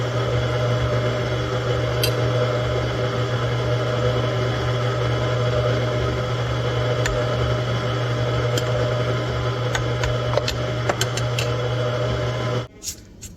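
A stand mixer churns pumpkin bread batter as dry ingredients are spooned in, giving a loud, steady motor hum with a constant whine and light tapping that runs on, then cuts out near the end.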